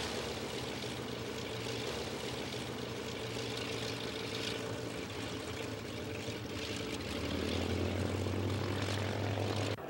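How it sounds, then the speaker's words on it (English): Vintage propeller airplanes land at a municipal airfield in Winston-Salem, their engines droning steadily and fairly loud throughout, with a deeper engine rumble building near the end. "25 rare and vintage airplanes, all of which participated in the original air tours, finally touched down in Winston-Salem."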